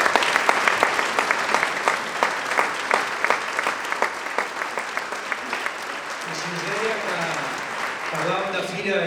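Audience applause at a festival opening speech: a crowd claps in a loud, rhythmic pattern that gradually thins, while a voice starts talking over the last few seconds.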